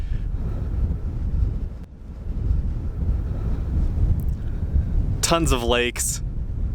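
Strong wind buffets the microphone across open, exposed country with lakes, a steady loud roar throughout, while someone talks briefly near the end.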